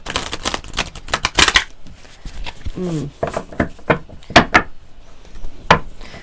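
Starseed Oracle cards being shuffled and handled, a rapid flurry of papery slaps and clicks in bursts, close and loud, with a voice briefly heard between them.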